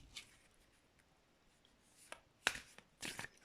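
Oracle cards being reshuffled by hand, a few quiet riffling bursts near the end after faint scattered ticks, close and soft with no talk.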